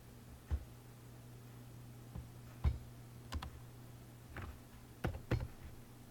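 Scattered clicks of keys being typed on a computer keyboard, irregular and close, over a faint steady hum.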